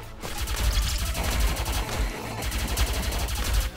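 Rapid video-game gunfire from the arcade shooter Juanito Arcade Mayhem comes as a loud, nearly continuous burst of fast repeated shots over a booming low end for a few seconds, with no talking.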